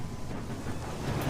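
Ominous, steady low rumble of marauder ships approaching in the video game Sunless Skies, a dense broadband roar like wind and distant thunder that swells slightly near the end, with no talking.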